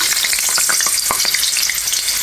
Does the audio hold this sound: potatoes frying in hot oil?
yes